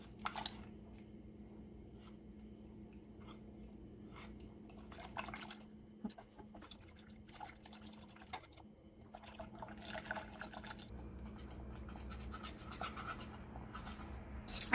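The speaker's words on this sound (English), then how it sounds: "you want to stir pretty much constantly. Try and whisk up the powder too so it breaks up." Kombucha pudding mixture being whisked in a pot over medium heat, with soft wet clicks and scraping strokes that come in irregular bursts close by. Faint bubbling runs underneath.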